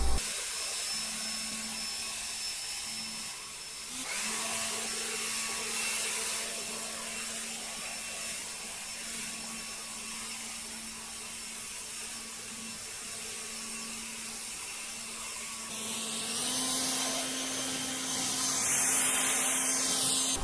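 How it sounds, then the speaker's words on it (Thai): A TEH LAB1250 cordless leaf blower runs steadily nearby with a constant whine and rushing air, its pitch stepping up slightly near the end. "สามารถใช้เครื่องเป่าลมเป่าใบไม้ตัวนี้ไปจัดการได้เลยนะครับ"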